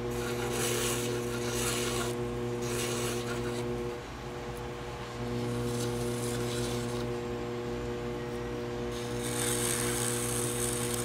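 Clay being trimmed from a pottery wine decanter on a spinning wheel: a steady, close scraping rasp over a constant motor hum, briefly easing midway and then resuming, with no talk.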